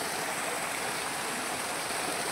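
Steady roar of water pouring over a waterfall at Himayat Sagar near Hyderabad, a dense, continuous rush that fills the whole clip with no voices.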